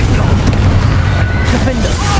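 Booming fire-spell blast from the Hogwarts Legacy video game, a dense continuous roar of explosive rumble filling the short moment, loud and close.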